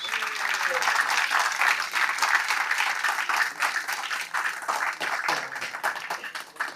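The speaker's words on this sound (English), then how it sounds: "Let's give them a big round of applause." An audience at a pipe show applauds three briar pipe competitors, with steady, loud clapping continuing throughout.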